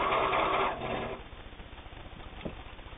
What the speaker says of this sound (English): We have a slow sewing feature.